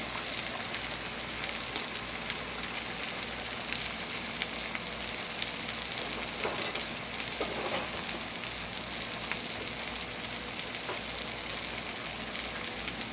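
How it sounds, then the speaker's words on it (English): Stewed tomatoes from two cans hit a hot pan of spaghetti sauce with meatballs, giving a steady, moderately loud broadband sizzle throughout, with a few faint clatters and stirring noises and no talking. "I'm adding 2 cans of stewed tomatoes."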